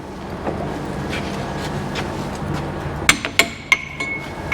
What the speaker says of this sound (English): Take one bolt out, hammer it off, flip it.